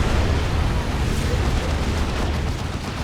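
Lascannon fire hits Carnifexes in a Dawn of War 2 3v3 match, a dense, loud roar of explosions and weapon blasts that rumbles continuously without a break.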